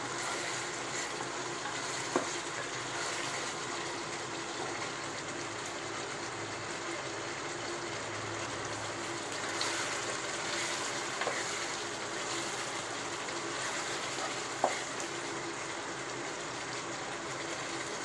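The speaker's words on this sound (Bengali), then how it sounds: "চালগুলো দিয়ে ভেজে নেব" Washed rice fries in oil for biryani, a steady dense sizzle and hiss that stays even throughout, close and continuous with a few faint clinks and no talk.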